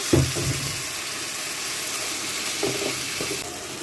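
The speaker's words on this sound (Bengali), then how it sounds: "বেগুনটা একটু ভাজা ভাজা হয়ে আসলে দিয়ে দিব রুই মাছের ডিম।" Eggplant pieces seasoned with turmeric, red chili powder and salt sizzle steadily in a pan, a continuous hiss with a few soft stirring clinks near the start and again later.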